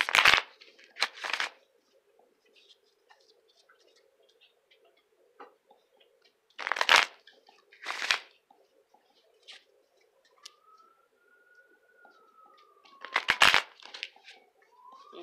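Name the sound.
shuffling cards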